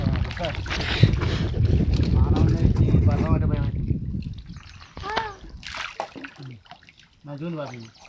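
Water churning and splashing with fish being caught during a fishing outing, a busy broadband wash heard under loud, close talking for most of the stretch, thinning out near the end as voices continue.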